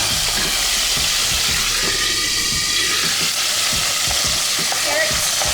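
Tomato goes into a pan of frying garlic and hisses in a steady sizzle while a utensil scrapes and stirs in repeated close strokes.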